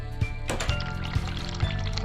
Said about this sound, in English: Run hot water